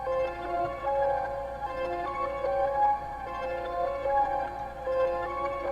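Reversed piano melody run through a vintage preset on the Vision Portal plugin, with sustained swelling tones and soft, smeared attacks. It plays alone at a steady moderate level, with no voices.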